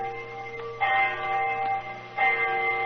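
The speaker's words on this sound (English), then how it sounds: "I remember the hour was striking." A clock strikes the hour in a rainy London square, two loud ringing chimes about a second and a half apart that hang on with a steady hum underneath.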